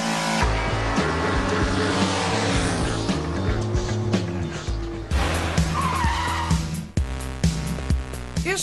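A car with worn-out brakes stops hard, its tires skidding and squealing loudly and continuously over the engine's roar, with a brief break and renewed screeching near the end.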